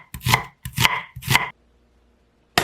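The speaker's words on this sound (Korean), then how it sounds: "양파는 가늘게 자르세요." Three crisp knife strokes thinly slicing onion on a cutting board in quick succession, a brief pause, then another cut begins.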